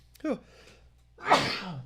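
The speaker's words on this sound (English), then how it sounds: "two sneezes are better than one" A sharp sneeze bursts out, preceded by a brief catching breath, close and fairly loud.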